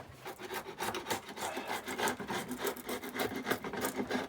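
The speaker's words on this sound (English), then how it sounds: "I'll get my chisel out." A chisel scrapes out old glue from wooden boat parts in a quick rhythmic series of rough rasping strokes, close and fairly quiet, with no talking.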